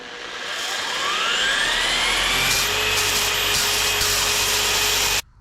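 Rotary polisher spinning a wool buffing pad, running up from a low whir into a loud, steady high-RPM whine with a rising tone, holding for several seconds before cutting off abruptly.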